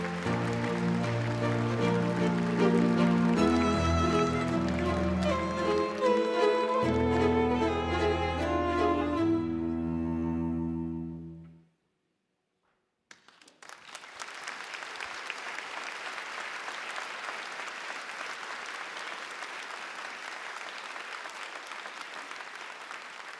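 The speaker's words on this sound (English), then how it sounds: "A round of applause, please." An audience at an international science awards ceremony applauds steadily, fading to silence before a second, dense wave of clapping follows.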